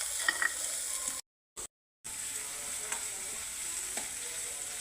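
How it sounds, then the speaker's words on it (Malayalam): Green chillies and shallots sizzle and crackle steadily in hot oil in a pan while cooking a ginger curry, a soft close hiss with small pops that stops briefly twice before resuming. "പച്ചമുളകും ഉള്ളിയും കൂടെ വഴറ്റാനിട്ട് ഇതും വറുത്ത് കോരണം"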